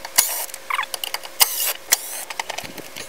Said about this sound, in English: Next, we're going to remove the 8 bolts that hold on our front fascia.